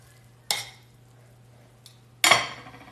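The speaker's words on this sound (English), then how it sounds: "I'm just going to give this all a little mix." A utensil stirs Italian beef with a can of beer in a pot, producing two sharp clinks and scrapes against the pot, a brief tap between them, and a quiet steady hum beneath.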